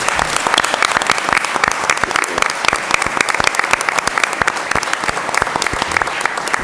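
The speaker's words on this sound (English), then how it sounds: "Let's give them a round of applause." An audience at a school district board meeting applauds teachers of the year, sustained crisp clapping from many hands, steady and close throughout.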